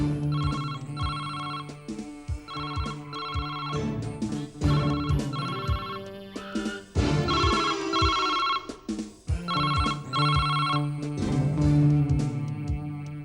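A telephone rings in repeated electronic bursts with short gaps between them, loud and close, sitting over a busy musical background.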